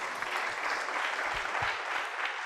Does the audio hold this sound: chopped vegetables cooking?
no